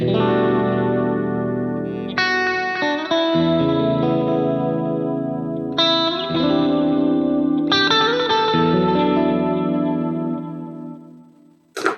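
An electric guitar through a spacious sustain effect preset on a Line 6 Helix Stomp XL plays chords that ring out with long, washy sustain and spacious reverb, a few strums blooming and lingering over about twelve seconds.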